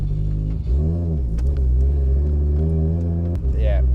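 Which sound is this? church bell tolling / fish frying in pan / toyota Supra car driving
toyota Supra car driving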